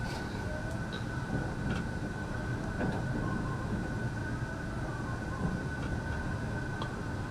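A long freight train rolls past on a passing loop of a railway line, a steady low rumble with faint metallic squeals and wheel clacks, moderately distant and continuous.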